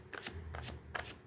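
Tarot cards being shuffled by hand in three quick riffling bursts, close and fairly quiet, with short pauses between them and no talking.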